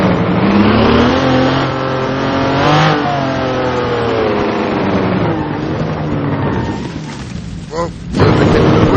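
Loud modded car engine in the BeamNG.drive driving game, revving and accelerating with rising and falling pitch, a sustained roar throughout with a brief dip near the end before surging again.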